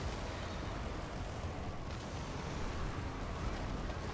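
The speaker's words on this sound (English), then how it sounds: "And, of course, the ion cannon. Ion cannon detected." An ion cannon strike rains down on a battlefield in Total War: Warhammer 2, a continuous dense roar of booming impacts and crackling blasts that holds loud and steady throughout.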